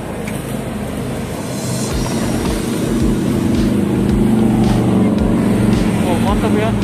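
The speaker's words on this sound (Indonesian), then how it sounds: "Dia naik motor besar. Suaranya mantap ya." A big motorcycle passes along a busy street beside the sidewalk near Karet Sudirman in Jakarta, its loud, deep engine rumble swelling and holding close over steady traffic noise, with a voice in the background.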